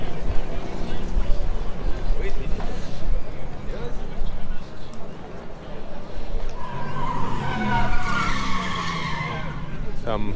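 At an outdoor motor show in Killarney, a rotary-engined car drives past, its engine note swelling loud and buzzing toward the end over a steady rumble of wind and crowd noise, with people talking nearby.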